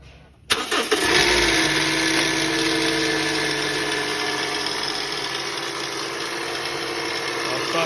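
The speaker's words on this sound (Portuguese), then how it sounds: "A situação desse motor aqui, ó, o barulho, liga aí." A Toyota Voxy engine with a faulty noise cranks and starts, then settles into a loud, steady idle with a continuous rattling, whining hum close by, alternator removed and a worn variable pulley.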